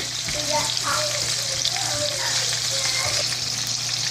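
Shrimp for Spanish garlic shrimp sautéing over high heat in a pan, a steady close sizzle and crackle of frying oil with faint stirring, no talking.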